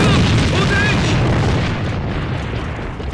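A hand grenade explodes in the video game AVA, a loud, broad boom at the start with a rumbling tail that slowly fades over a few seconds.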